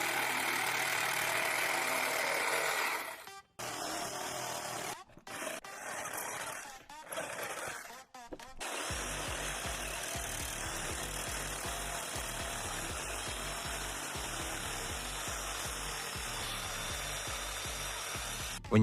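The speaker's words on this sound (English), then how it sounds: "a quick clip of me cutting the rafter tails with the jigsaw and smoothing them out with the grinder" A jigsaw cuts wooden rafter tails for a pergola in loud, ragged bursts broken by short pauses, and then an angle grinder smooths them with a sustained, steady whine that runs near and alone to the end.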